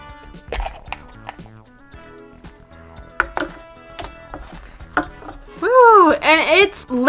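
Plastic surprise egg being handled and pried open: scattered clacks and knocks of hard plastic, ending in a burst of louder crinkling and rattling as the shell comes apart.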